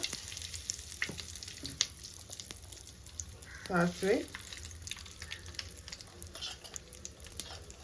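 Mustard seeds splutter in hot ghee with a pinch of asafoetida, making sparse, light crackles and pops over a soft sizzle, with a brief louder burst of spattering partway through.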